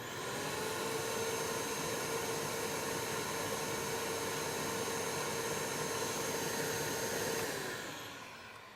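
A workshop dust extractor motor runs steadily and quietly, a smooth whirring hum with a constant airy rush, holding even for several seconds before the motor winds down at the end.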